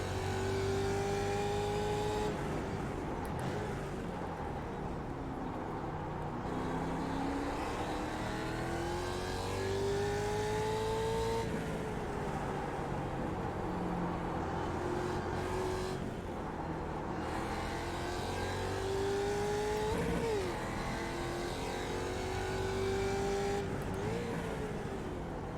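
A Mazda Miata race car accelerates through a lap of a track, its engine note climbing and dropping through repeated gear changes, steady and fairly close, with no talk over it.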